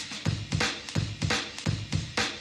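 An Amen break drum loop played back at the wrong pitch, giving a smeared, dense run of kicks, snares and cymbal wash at a steady, fast pulse, fairly loud with no talking.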